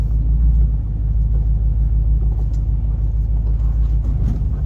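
An off-road vehicle crawls over a boulder at an off-road park, its engine a steady low rumble up close with faint scrapes and knocks, and no talk over it.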